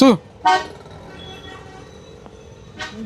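Vintage car horns honk on a street, one short toot at the start, a louder blast just after, and another near the end, with traffic rumbling between them.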